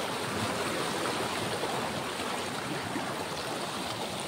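Loud, continuous rush of churning water fills the whole stretch, a steady broadband roar of surf or heavy waves close by with no talking.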